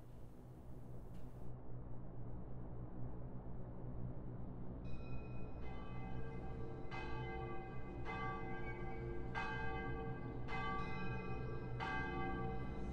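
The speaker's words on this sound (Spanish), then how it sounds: "A veces sonaban las campanas de la catedral y la gente corría y se escondía." Cathedral church bells ring out in a slow, regular series of strikes over a steady low rumble, distant but clear, with no voices.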